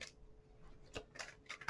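Quick papery riffles of tarot cards being shuffled, a few short bursts close by with soft handling noise between them.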